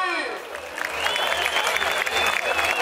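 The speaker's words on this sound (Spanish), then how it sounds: "A ver, el aplauso para Moy." Audience applause for rider Moy at a Jalisco rodeo at Rancho La Candelaria, a sustained wash of clapping from a crowd, fairly loud, with an announcer's voice over it at the start.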